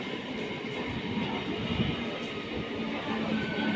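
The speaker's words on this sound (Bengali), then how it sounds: "ট্রেন ঢুকছে, এবার আমরা এই ট্রেনেতেই উঠবো।" A train rolls into Begampur station, its steady rumble and wheel noise running throughout at close range. A voice is faintly heard under it.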